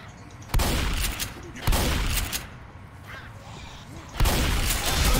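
Pistol gunfire in Left 4 Dead on expert difficulty, three loud separate shots spaced a second or more apart, each ringing out over a noisy game background with faint voices.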